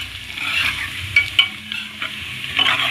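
Onions and whole spices sizzle steadily in a hot pan, a close, bright frying hiss with a few sharp pops and stirring scrapes throughout, and no voices.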